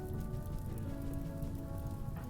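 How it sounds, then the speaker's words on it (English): Steady rain falling in the RimWorld video game, a dense, continuous patter of drops on surfaces at an even level from start to finish, with a faint tonal hum beneath. "It is now raining."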